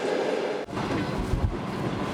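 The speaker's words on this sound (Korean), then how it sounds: "이 기차는 우즈베키스탄까지 가는, 그러니까 러시아, 카자흐스탄, 우즈베키스탄 이렇게 3나라를 거쳐서 가는 그런 열차라고 합니다" Passenger train rolling through Kazakhstan on a long cross-border route from Russia toward Uzbekistan, a steady loud rumble of wheels on rails with rhythmic clattering and low thumps inside the carriage.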